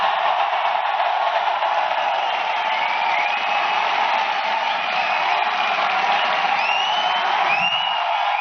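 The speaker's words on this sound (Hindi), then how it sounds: "जोरदार तालियां सुरेंद्र वत्स के लिए।" Loud, sustained applause and cheering from an audience for Surendra Vats at a leadership training talk, a dense unbroken roar of clapping with whoops lasting throughout.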